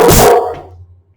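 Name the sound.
neighbor's dogs barking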